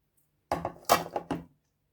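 Minced meat spooned onto macaroni in a baking tray for béchamel pasta: three short clattering bursts of utensil against the tray, close and fairly loud, with silence before and after.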